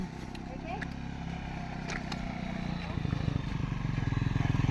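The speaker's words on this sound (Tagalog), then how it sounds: "May motor." A motorcycle engine puttering nearby grows louder toward the end in rapid, rhythmic pulses, with faint clatter and voices in the background.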